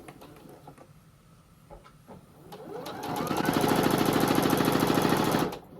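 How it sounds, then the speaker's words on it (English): A sewing machine fitted with a 1/4 inch foot pieces quilt block fabric. After a few quiet clicks, it runs in one fast, rhythmic, close burst of stitching for about three seconds, then stops abruptly. "I'm just going to sew these together using a scant 1/4 inch"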